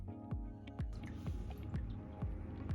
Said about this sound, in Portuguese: eu vou devolver aqui a água aos poucos pro aquário. Eu tenho um copinho aqui que eu uso